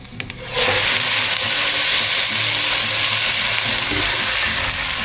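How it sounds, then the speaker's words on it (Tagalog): Chicken pieces hit a hot pan already holding sautéed onion, ginger and garlic, setting off a loud, steady sizzle of frying that runs unbroken after a brief start, with faint stirring clatter beneath. "Lagyan na po natin yung ating manok."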